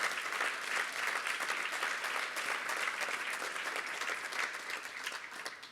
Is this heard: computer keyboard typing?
no